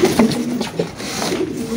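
Domestic pigeons coo softly and repeatedly close by, a low throaty burbling rhythm from a few birds, with no talk.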